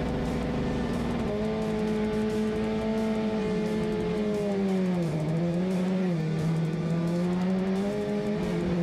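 Onboard a Super TC 2000 race car at the start of a race in Buenos Aires, the engine roars loud and steady, pitch climbing through the gears and dipping at shifts, alongside nearby cars accelerating.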